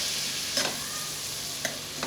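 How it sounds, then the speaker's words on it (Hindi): A tablespoon of cumin seeds dropped into hot oil over a medium-low flame gives a steady, close hiss of sizzling with a few faint crackles scattered through it. "ये ज़ीरा हमने इस पर डाल दिया 1 टेबल स्पून।"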